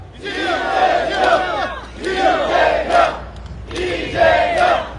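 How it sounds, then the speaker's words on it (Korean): An outdoor political rally crowd in Jeju chants a candidate's name in three loud, rhythmic bursts, roaring together with short pauses between. "제가 지금은 하면 이재명을 3번 외쳐주십시오."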